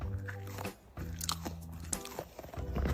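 A DNA ball fidget toy is squeezed in the hand, giving close, crackly, squishy crunching noises in several quick bursts with a short pause near the start.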